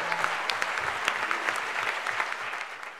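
Applause from a hall audience at a national assembly, used to approve a new national coordinator; dense, steady clapping fills the room with sharp individual claps standing out, loud and sustained without talk.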